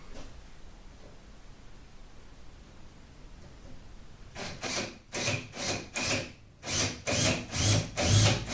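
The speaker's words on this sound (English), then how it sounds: "so I can cut out the plywood" Hand saw cutting plywood for a Spindrift 10 nesting sailing dinghy, about eight steady back-and-forth strokes starting midway after a quiet stretch, close and fairly loud with no talk.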